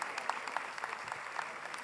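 An audience claps at a music festival award ceremony, a faint, steady patter of many hands from a distance, brief and even throughout.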